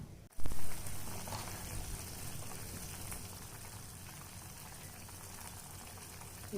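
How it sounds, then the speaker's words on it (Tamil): Neem flower kuzhambu bubbling in a covered pot, a steady soft simmer with dense fizzing and popping that runs evenly throughout after a brief knock at the start. "குழம்பு அது கொதித்து வரட்டும்"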